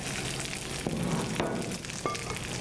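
Garlic stirred in oil in a skillet, a dense, steady frying sizzle close up with a few soft scrapes and taps of the utensil, no voices.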